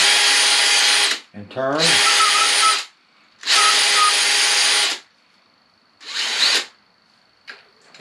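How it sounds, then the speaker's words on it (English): A power drill reams the cork grip of an inshore saltwater spinning rod in four loud, close bursts of high whining spin with pauses between them, and someone speaks briefly in one gap. "So I'm going to ream. I'm going to turn it. I'm going to ream."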